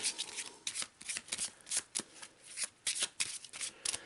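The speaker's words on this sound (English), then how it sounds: "So let's give it a good shuffle." Deck of Eldritch Horror Mythos cards being shuffled by hand, quick riffling bursts and flicks repeating in an uneven rhythm, close and crisp, with no talk.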